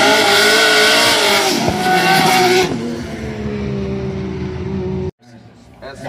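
A drift car sitting at the start line at a Formula Drift event in Seattle roars loudly at close range, engine revving and droning, then cuts off abruptly near the end.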